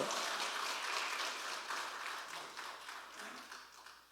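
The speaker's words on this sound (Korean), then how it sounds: "하나님 앞에 영광의 박수로 막도록 하겠습니다" Church congregation at a Sunday afternoon service clapping together, a broad, sustained ripple of applause that gradually thins and fades.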